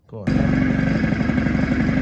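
An Aprilia SR50 scooter engine starts up and settles into a loud, steady, close two-stroke idle with an even rapid putter, as part of a lambda-probe tuning session.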